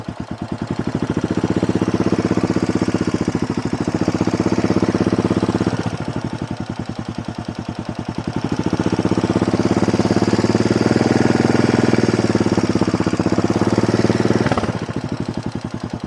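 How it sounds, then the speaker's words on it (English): A motorcycle engine idles as the clutch is slowly released while a learner rider gets the bike moving, giving a steady close chugging rumble that swells, sags briefly mid-way, then rises again. "slowly let go of the clutch until you feel the bike move forward"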